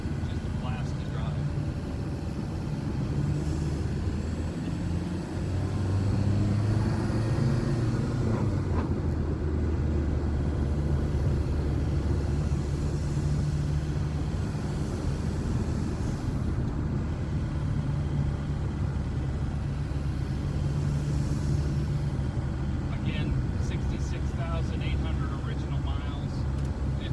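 A 1980 VW Rabbit Pickup (Caddy) with a 1.9L TDI diesel runs at a smooth, steady idle, giving a loud, continuous low rumble with a faint engine hum above it that holds even for the whole stretch.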